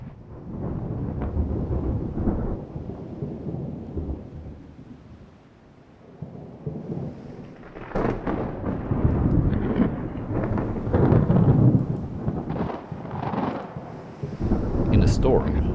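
Thunderstorm in a naval strategy game with battleships fighting a heavy cruiser: continuous low rumbling rain and rolling thunder, swelling louder in the second half with heavy bursts, steady throughout.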